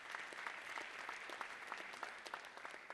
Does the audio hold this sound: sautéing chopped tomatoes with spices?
no